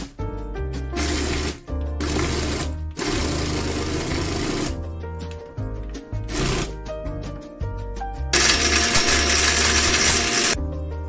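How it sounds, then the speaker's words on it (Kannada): Mixer grinder grinding masala for Karwar-Ankola style mackerel fish sukka, a loud whirring motor run in several bursts with brief pauses between them, ending on a stronger, harsher final burst. "ಇದನ್ನ ಈಗ ಗ್ರೈಂಡ್ ಮಾಡ್ಕೋಬೇಕು"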